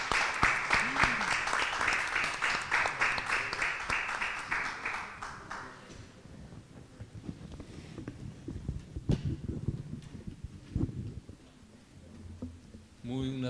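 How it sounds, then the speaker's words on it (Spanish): Applause from a seminar audience at a conference on legal capacity of persons with disabilities, a dense burst of clapping for about six seconds that fades out, followed by quieter room noise and a brief voice. "Un aplauso, perdón."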